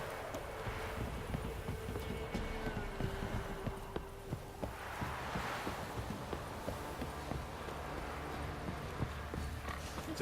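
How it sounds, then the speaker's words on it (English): Horse hooves clip-clop at a steady walking pace in The Witcher 3 video game, with a low droning game ambience and faint wind running underneath throughout. "Time to water the horses."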